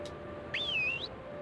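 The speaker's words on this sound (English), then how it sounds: "Our horse is too far away to hear me whistle." A single short rising-and-falling whistle calls for a horse in the 2003 Barbie Horse Adventure: Wild Horse Rescue video game, clear and fairly close against quiet background.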